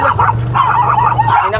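Several dogs bark and yip at a camping site waiting area in Magdalena, making a loud, close, continuous clamor. Higher whimpering yelps mix with the barks, and no clear speech is heard.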